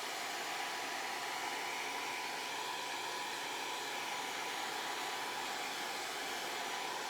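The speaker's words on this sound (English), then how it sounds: "So I've got a blow dryer." A handheld blow dryer runs steadily for the whole stretch, a loud close whooshing roar with no pauses and no voices.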